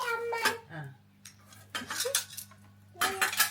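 Metal spoons and steel plates clink and clatter in a few short bursts, close by, with quiet gaps between the handling sounds.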